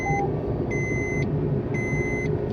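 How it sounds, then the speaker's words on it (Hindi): Seat belt unfastened warning in a Maruti Alto K10: a repeating electronic chime sounding three times in an even rhythm, clear and steady over a constant low engine and road hum inside the moving car. "ये बीप 120 स्पीड क्रॉस करने पर नहीं है, मैंने सीट बेल्ट खोली है इसलिए आ रही है"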